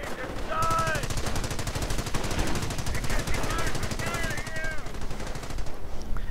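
Rapid, sustained MG42 machine gun fire in a World War II strategy game, a dense rattling burst running almost the whole time with brief spoken commentary over it.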